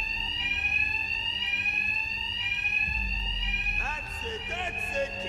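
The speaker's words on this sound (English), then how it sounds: "My attacks will be covered by the noise of the alarm." An alarm blares in the Batman: Arkham Knight video game as a continuous, loud, ringing electronic tone. Other game sounds and voices break in near the end.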